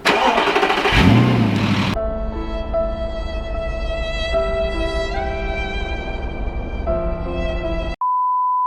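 A Lamborghini Aventador starting up: a short cranking surge, then a steady tonal drone with electronic beeps, ending in a single sustained tone.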